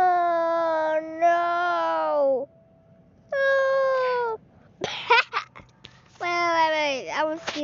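A cartoonish cat meows in the Adopt Me video game, with several long, drawn-out cries and a few short squeaks, loud and close, and brief pauses between them.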